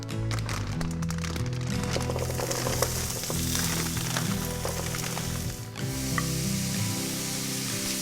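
Meatballs frying in a pan on a stovetop produce a dense, steady sizzle with a low hum underneath. The sound is close and continuous, briefly dipping once.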